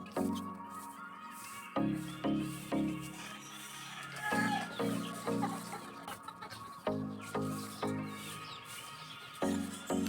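Hens and young chicks of gamefowl cluck and peep in a pen, a steady series of close, repeated clucks with softer chick cheeps underneath.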